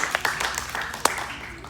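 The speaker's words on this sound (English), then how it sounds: "Give me clap for that, because it's so awesome." A church congregation clapping, scattered hand claps with a few sharper slaps over a short stretch, moderately loud in a roomy hall.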